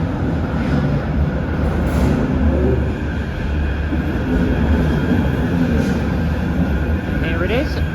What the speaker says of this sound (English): arriving in now is the tram that is going to take me to Manchester Victoria